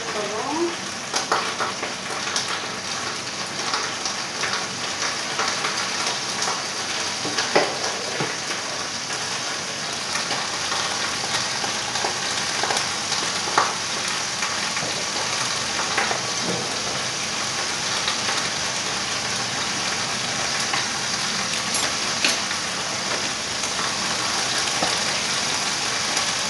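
Coq au vin ingredients with herbes de Provence roasting in a pan give a steady, close, continuous sizzle and crackle, like rain on a surface, with occasional stirring clicks throughout.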